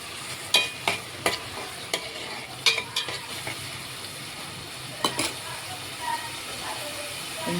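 Onion, tomato and ground garlic stirred in hot oil for an egg kuzhambu, with sharp, irregular spoon scrapes against the pan over a quiet, steady sizzle.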